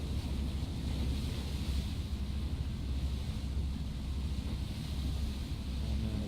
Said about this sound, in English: Oh man, the waves are crazy.